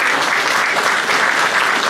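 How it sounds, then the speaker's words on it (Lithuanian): Steady, dense applause from an audience in a cultural centre hall in Ramučiai during an autumn concert, loud and continuous throughout with no voices over it. "aplodismentai jų vadovui Vincentui Kursai."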